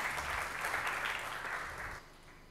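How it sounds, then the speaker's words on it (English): A conference audience applauds on stage for a speaker, a dense, even wash of clapping that holds for about two seconds and then fades out abruptly. "a big pink stage round of applause for Dr. Florian Rappl"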